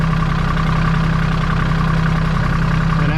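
Kioti tractor diesel engine idling steadily after servicing, a loud, close, continuous low throb with an even rumble and no talk.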